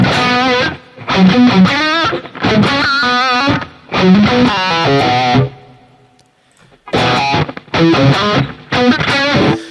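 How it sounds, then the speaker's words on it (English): Electric lead guitar with a distorted tone and a low reverb setting, played in several phrases of sustained, singing notes separated by short gaps, with a soft reverb tail audible in the pauses. "So reverb is great. Even you know at like pretty low settings, like something like this."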